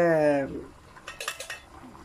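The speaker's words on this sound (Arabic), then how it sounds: "غادي نسد عليه طنجره الضغط ونعاودو نطلقها هنا" A metal pressure cooker lid clatters shut over a beef rib dish cooked Moroccan style: a short run of sharp clanks and rattles follows a brief voice at the start.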